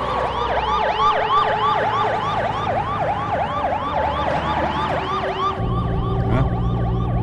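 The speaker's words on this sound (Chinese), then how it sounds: "拉警笛干什么？" Wailing emergency siren on an official government car, looping in steady rising-and-falling sweeps over continuous road and engine noise, loud and close throughout with a change in its tone near the end.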